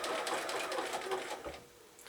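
A sewing machine runs in short bursts of close, rapid stitching as zig-zag applique is sewn onto birthday bunting, its whirring pausing briefly between runs where the fabric is lifted and turned.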